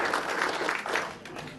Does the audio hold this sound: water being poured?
no